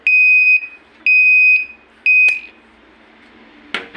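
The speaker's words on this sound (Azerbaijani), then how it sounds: "Mühərrik ağırlığa düşdükdə həyəcan siqnalı işə düşür" The overload alarm on the control box of an 11 kW electric grass chopper sounds three loud, steady electronic beeps about a second apart, followed by a short clank.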